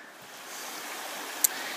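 Water in an outdoor creek on a cross-country course flows in a steady, even rush throughout, with one brief sharp click partway through.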